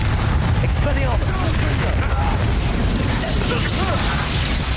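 Expelliarmus spell cast in Hogwarts Legacy, heard as dense magical bursts and booming impacts amid loud continuous game combat, with voices shouting over the action.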